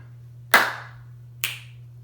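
Two sharp hand claps, well spaced about a second apart, ring out clearly over a low steady hum as part of a simple rhythm pattern, with no talking.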